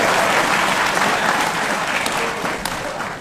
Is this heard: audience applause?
yes